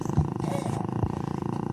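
A voice imitates a yowling, roaring cat, a short strained growl with a couple of louder bursts, heard close up.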